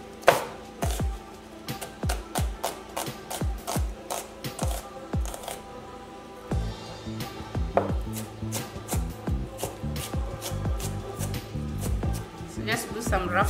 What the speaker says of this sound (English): And then I'm going to fine chop my onion.